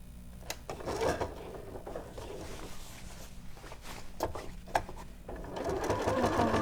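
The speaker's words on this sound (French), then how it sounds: "je vais faire ma couture au bas" A sewing machine stitches the hem of a soft, loosely woven skirt fabric in short bursts of rapid whirring, with pauses and small handling clicks between runs, close and quiet, no talk.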